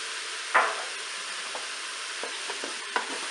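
Mushrooms and parsley being stirred in a Cookeo multicooker for mushroom velouté, a soft continuous sizzle with a few light scraping and knocking strokes of the spoon, fairly close and without speech.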